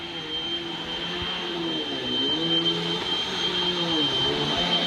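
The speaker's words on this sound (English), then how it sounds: "There she is, vacuuming." A vacuum cleaner drones steadily at an office, with a constant whirring hum and a faint high whine. Its pitch wavers slightly as it is moved, and a voice murmurs faintly underneath.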